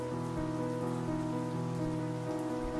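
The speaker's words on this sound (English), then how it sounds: "The sound of falling rain was all that could be heard." Steady rain falls on a surface as a dense, even wash of patter that holds at a constant level, with a low, sustained hum beneath and no voices.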